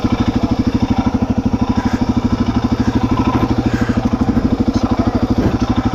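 A dual sport motorcycle idles while being backed into a parking spot, its engine thumping in a steady, even rhythm close by and fairly loud, with no speech over it.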